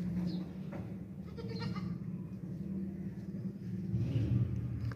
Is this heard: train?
no